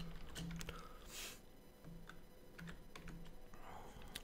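A PIN code is tapped out on a computer keyboard, quick close key clicks arriving in short uneven bursts over a quiet room.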